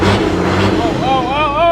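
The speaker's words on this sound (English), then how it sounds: "Rev it up, rev it up." A donor engine for a pulling tractor project revs loudly up close, its rising and wavering pitch climbing as the throttle opens, with a brief voice at the start.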